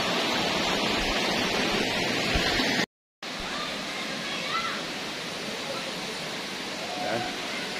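A river near Daranak Falls in Tanay rushes along in a steady broadband wash, with a brief dropout midway and faint voices in the background.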